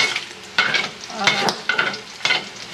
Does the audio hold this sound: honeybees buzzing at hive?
no